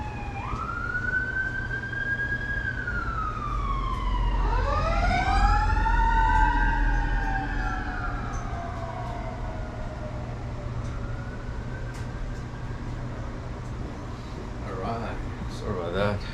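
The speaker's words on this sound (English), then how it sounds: "Lately we had quite a bit of activity with the ambulances." Ambulance sirens wail past outside a garage where a 2012 Jaguar XJ is under repair, several overlapping sweeping tones rising and falling, loudest midway then fading into the distance over steady low rumble.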